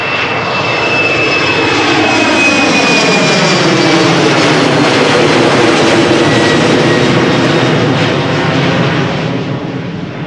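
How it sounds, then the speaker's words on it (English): A KLM Embraer 190 jet climbing away after takeoff at Schiphol, a steady, loud, close engine roar with a high whine and sweeping tonal shifts, holding strong throughout with no voices. "They do make good noises always, those Embraers"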